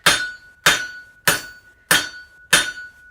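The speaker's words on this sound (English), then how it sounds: "I'm hammering down on the bias" Metal hammered on an anvil while forging a rolled rose: five loud, ringing strikes at an even, steady pace, each with a bright metallic ping that decays quickly, close to the microphone.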